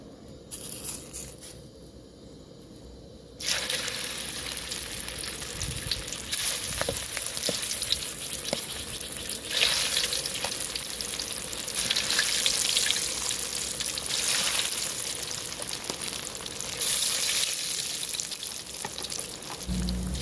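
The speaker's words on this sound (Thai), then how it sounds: "อร่อยหวานเจี๊ยบ อ่ะ พร้อมทอดครับ" Betel leaf fritters fry in hot oil with a loud, continuous sizzle and crackle that swells after a quieter opening and holds steady, close by with no talk.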